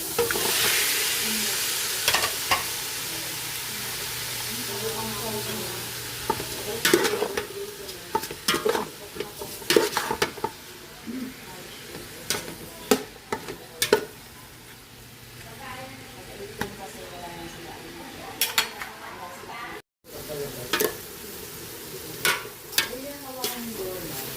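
Pork frying and being stirred in a pan for dinuguan or pork steak, with steady sizzling under scattered sharp clinks and scrapes of a utensil against the pan, close by and fairly quiet, with occasional voices.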